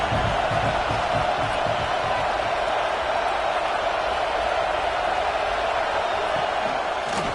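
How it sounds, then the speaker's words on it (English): A large stadium crowd at a college football game roars steadily and loudly throughout, a dense continuous wash of cheering with no breaks. "Listen to this crowd just shaking the girders of this place, trying to help their defense."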